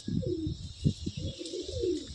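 Andhra pigeons in a loft coo close by, a few low throaty coos in quick succession with no talk.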